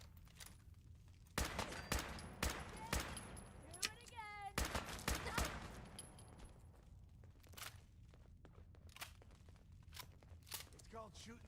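Gunfire in Fallout 4 with the Fallout Horizon mod, rapid sharp shots and bursts in clusters, loud up close, with a voice talking in between.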